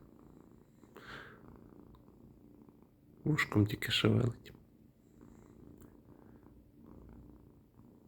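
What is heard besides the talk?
cat purring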